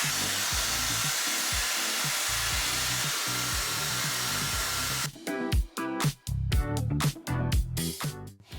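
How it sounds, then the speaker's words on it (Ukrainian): A steady, loud Dyson hair dryer straightener blows for several seconds, then cuts off and gives way to a series of irregular clattering knocks. "Мені подобається цей фен випрямляч Dyson. Він потужно і швидко висушує волосся."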